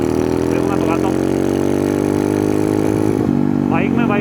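Off-road motorcycle engine running steadily close by with strong vibration, a continuous loud harmonic drone throughout while someone talks over it.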